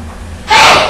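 A single loud sneeze bursts out after a brief quiet intake, close and sharp, during a university lecture.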